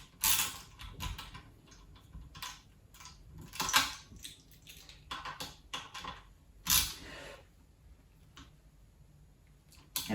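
A wrench turns the headstock bolt on an aluminium Micro scooter, making faint, close creaks and small metallic ticks at an irregular pace, with no talking.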